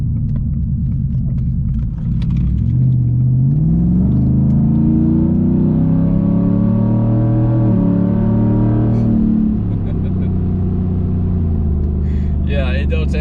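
A car in Sport mode accelerates hard, its engine note climbing loudly through rising revs with audible gear shifts, heard from inside the cabin with a strong low rumble.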